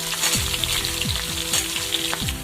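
Taro greens fry in a hot pan with garlic, giving a dense, steady sizzle with repeated scraping strokes of a utensil stirring them, close and continuous.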